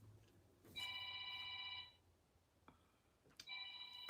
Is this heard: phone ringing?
yes